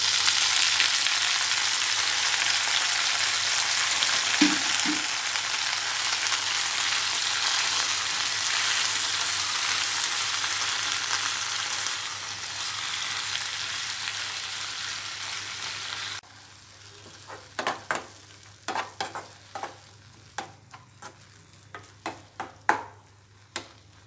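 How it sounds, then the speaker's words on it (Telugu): Gongura leaves hiss and sizzle loudly in oil where green chillies were just fried, for a cucumber gongura chutney. After a steady stretch the sizzle drops away to quieter stirring, scraping and clicking in the pan. "పచ్చిమిరపకాయలు ఫ్రై చేసుకున్న ఆయిల్లో గోంగూర వేసుకోవాలి"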